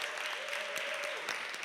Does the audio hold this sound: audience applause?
yes